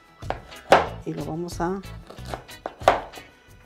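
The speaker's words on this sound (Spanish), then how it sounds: "lo vamos a partir, nuestro membrillo" A knife chops through quince fruit on a kitchen surface while making a homemade turrón honey, giving several sharp close cutting knocks interspersed with a woman's speech.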